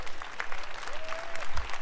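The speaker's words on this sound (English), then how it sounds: "Let's give them all a round of applause." Brief burst of audience applause at the EA conference during E3 2018, dense clapping from a large crowd heard for a couple of seconds, fairly loud and filling the room.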